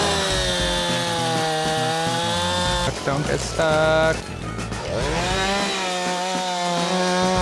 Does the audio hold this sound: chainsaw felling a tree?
yes